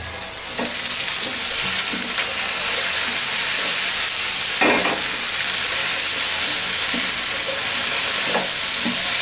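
Okra and carrots sizzle steadily in a pan, a broad continuous frying hiss with occasional scraping stirs from a spatula, loud and close with no talking.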